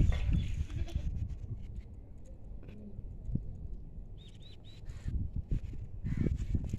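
A tall, heavy dairy goat of the Makhi Cheeni breed, standing with her kid, bleats in a few short calls. Birds chirp faintly in the background of an otherwise quiet outdoor setting.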